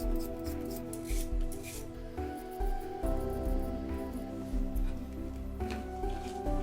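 A peeler scraping a carrot into thin strips for a tuna green salad, a soft repeated rasping that sits quietly under a steady background hum.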